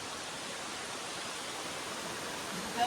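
River water flowing through the Bandar Kudni gorge near Jabalpur, a steady, faint broadband rush that continues evenly with no distinct splashes and no talking.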